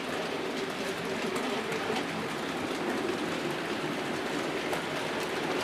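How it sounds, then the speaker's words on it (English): A Class 73 model locomotive running on analog track with Peco points and insulated rail joints, giving a steady, continuous rolling hum and faint clicking. "Now we're putting the loco on what we call the inner part of the outer loop."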